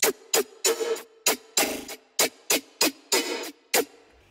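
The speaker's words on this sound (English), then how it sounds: "I also took the LFO up to the bend of the second oscillator" Rapid synth clicks with a wobbling, pitch-bent tone, the second oscillator's bend swept by an LFO, hitting in an uneven rhythm of about a dozen sharp bright attacks with short tails, loud and alone.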